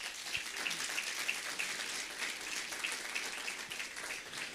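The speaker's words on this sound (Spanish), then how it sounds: "Por favor, una vez más, vamos a dar fuertes aplausos." A church congregation at a Sunday evangelical service gives a steady round of applause, a dense, even patter of many hands clapping for several seconds at moderate level.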